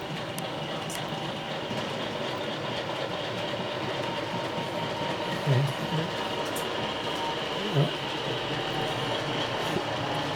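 A model Class 50 locomotive in Network SouthEast livery runs round a layout track with a steady rolling rumble and faint wheel clatter, plus two brief soft bumps, close and continuous.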